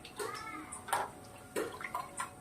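Water swishes and splashes in a bowl as leftover coconut paste is rinsed out and poured off, in a few short bursts of sloshing close by.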